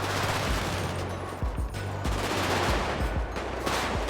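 Gunfire in a roleplay video game set in a gang neighborhood: repeated bursts of shots crackle over a steady low rumble and engine-like drone, with several sharp reports standing out across the stretch, no talking.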